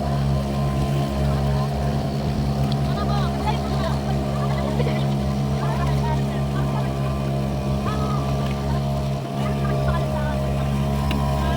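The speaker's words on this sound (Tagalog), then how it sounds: "Hirap yung bangka kay hirap. Hirap sa amin, mabigat kami." A boat motor drones steadily and loudly throughout on an island hopping trip off Lian, Batangas, a continuous low engine hum with voices faintly mixed in.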